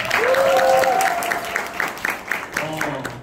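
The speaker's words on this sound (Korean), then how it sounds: "큰 박수 부탁드리겠습니다." Audience at a business seminar breaking into applause, a dense patter of clapping that swells at the start and thins out toward the end, with voices audible over it.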